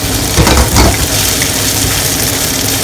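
A loud, steady sizzling hiss of beef frying in a hot pan for a stir fry, close up and continuous.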